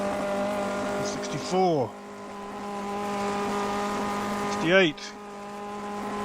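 Simulated 1958 Formula 1 race car engine at Spa in a racing game, a steady high drone held through fourth gear with two brief rising shift sweeps, while someone talks over it.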